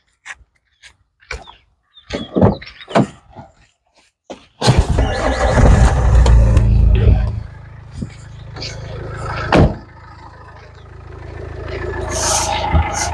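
A low-budget diesel car's engine cranks and catches after a series of brief knocks, then idles with a steady rumble that swells and settles, while a voice talks over it.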